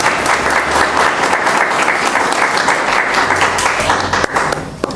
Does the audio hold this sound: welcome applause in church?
yes